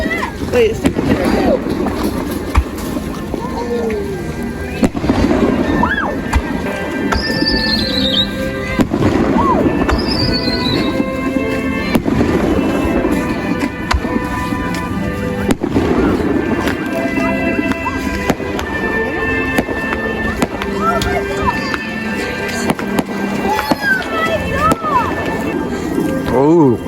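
Fireworks bursting outdoors on a snowy winter night, with repeated booms and crackles spread through the scene, partly masked by people talking close by.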